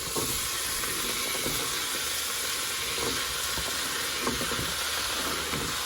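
Potatoes dropped into a hot pot for a lobster, scallop and corn chowder, giving a steady sizzle and hiss with faint stirring clinks, close and continuous with no talk.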